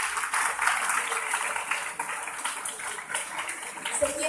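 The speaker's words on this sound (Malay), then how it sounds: "Jadi kita berikan tepukan gemuruh kepada Cikgu Nasir." A school graduation ceremony crowd at SMK Taman Kota Kulai gives a teacher a thunderous round of applause: dense, steady clapping that rushes on without a break at moderate volume.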